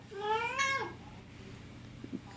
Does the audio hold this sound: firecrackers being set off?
no